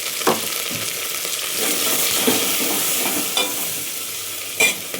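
Oil fries in a pan for sambar, a steady sizzle with occasional stirring scrapes and louder spatters breaking through; no one speaks.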